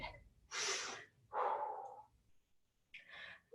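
Deep, forceful breaths during a total-body resistance workout: two long airy exhales close together, a pause, then a third shorter breath, each loud and near with no talking.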